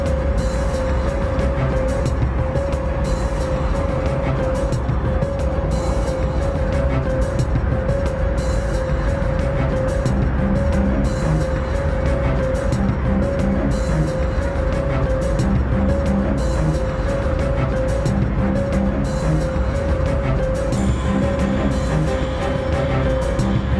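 Heavy traffic streams out of Tehran as a continuous dense wash of car engines and tire noise, with passing vehicles blending into a steady roar and no voices.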